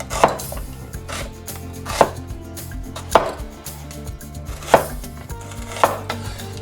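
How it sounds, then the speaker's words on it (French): Knife chopping an onion into thin slices on a board for beef with broccoli, five sharp, evenly spaced cuts over a steady musical backing, no talking. "Pour l'oignon, je vais couper en lamelles."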